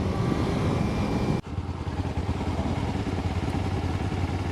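Kawasaki Ninja motorcycle engine droning steadily while riding through curves, a loud sustained roar that dips briefly and then carries on under wind noise, with no talking.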